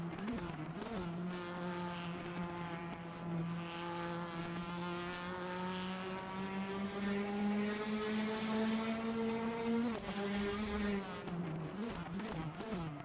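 An LMP1 prototype race car at Silverstone in a racing game, its engine droning steadily at high revs with a sustained, slowly rising pitch, then briefly dipping and recovering near the end.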